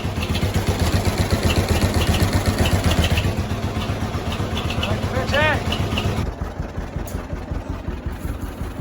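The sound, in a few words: antique tractor engine running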